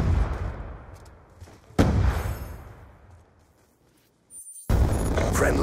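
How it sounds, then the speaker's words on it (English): Hellstorm missile strike in a video game, sharp booming blasts with rumbling decay, a brief near-silent gap, then another loud burst. "Friendly Hellstorm missile inbound."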